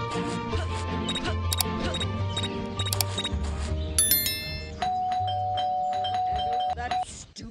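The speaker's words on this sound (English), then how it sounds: "Bell again." Doorbell ringing in Scary Teacher 3D, ding-dong chimes over steady game music, with electronic jingles and beeps mixed in.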